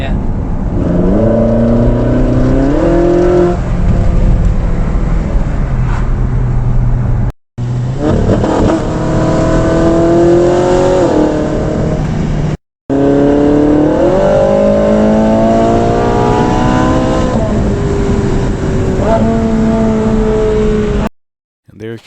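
A high-revving exotic sports car engine screams through repeated rising runs, close and very loud. Brief cut-outs separate the pulls, and each one climbs in pitch through the gears.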